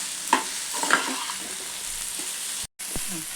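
Ginger, garlic, chilli and greens frying in a pan for a village-style biryani, with a soft steady sizzle and a few sharp scrapes of stirring close by.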